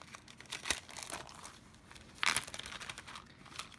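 Paper craft supplies being pulled from a paper envelope, giving brief crinkling and rustling bursts, with a sharper tearing crinkle near the end, close and fairly quiet.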